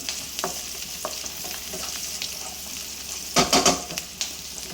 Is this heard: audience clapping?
no